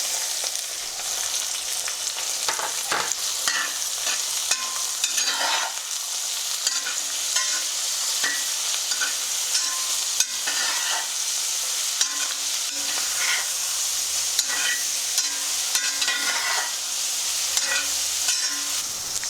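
Steady crackling sizzle of small pearl onions frying in hot oil with turmeric powder, with occasional scraping stirs, close and continuous, no talking.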